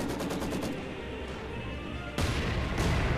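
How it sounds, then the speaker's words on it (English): Machine guns rattle in a Company of Heroes 2 battle: a dense, loud, continuous burst of automatic fire with heavy booms of other weapons mixed in, and no voices. "Running into your machine gun, so you got this under control."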